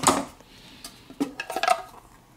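The removable plastic grind chamber of a Cuisinart Supreme Grind burr mill is handled close by, giving a few light clicks and clattering knocks with short pauses between them.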